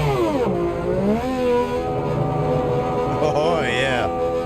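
A race car engine in the Project Motor Racing video game revs loudly and continuously, its pitch climbing and falling in long sweeps, with a voice heard partway through.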